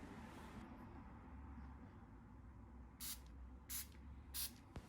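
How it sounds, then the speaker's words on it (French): Waterproofing spray is misted onto a leather bag in three short hissing bursts, each about half a second long and evenly spaced, over a low steady background rumble. "Pour finir, on va protéger avec un spray imperméabilisant."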